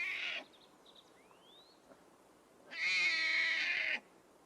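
Captive newborn big cat cubs let out a short mew, then a longer, strained, high mewing cry after a pause, near and clear with nothing else over them.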